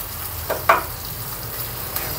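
Ghee tempering with curry leaves, chilies, peanuts and mixed seeds sizzles steadily in a pan while it is stirred, with a couple of soft scraping knocks, close and alone.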